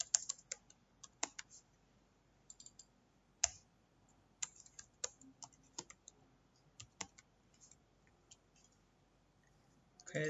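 Computer keyboard typing in short irregular bursts of clicks and taps, fairly close and quiet, with scattered louder keystrokes and brief pauses between runs.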